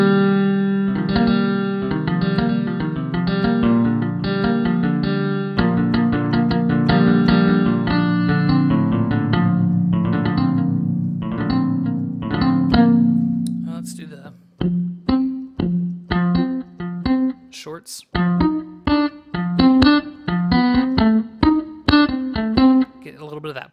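Modwheel biscuit tin guitar picked with a plectrum, a twangy electric tone with sustained ringing chords at first, then choppy, short muted plucks in an uneven rhythm, fairly loud and close.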